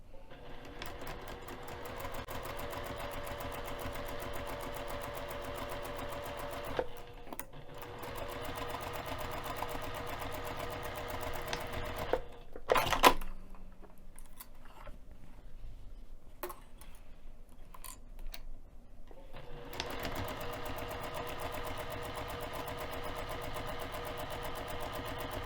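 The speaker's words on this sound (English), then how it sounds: "I'm going to take this over to the sewing machine and sew directly on top of the line" A sewing machine stitching along a line on a bag's lining main panel, a steady close mechanical whir that runs continuously, stops for a few seconds with small handling noises, then resumes.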